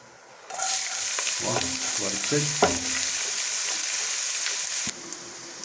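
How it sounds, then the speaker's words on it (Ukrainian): Chopped onion dropped into hot lard in a pan for lazy pilaf bursts into a loud, continuous close sizzle, with a few stirring knocks early on before the hiss cuts down near the end. "Коли наш смалець вже накалився, вкидаємо нашу цибулю."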